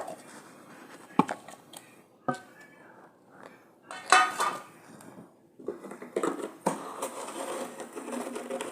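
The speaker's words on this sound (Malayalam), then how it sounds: "ഞാൻ ചിക്കുവെല്ലാം മുറിച്ചെടുത്തിട്ടുണ്ട് ഇതെല്ലാം നമുക്ക് മിക്സിയുടെ ചാറിലേക്ക് ഇട്ട് കൊടുക്കാം" Cut sapodilla (chikoo) pieces dropped into a mixer jar, giving a few scattered knocks and clatters of fruit and utensil against the jar amid quiet kitchen handling.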